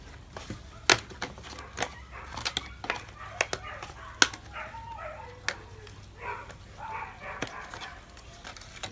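Several dogs bark in scattered bursts at a moderate distance from a neighboring dog pound, sharp yips and barks over a low steady hum.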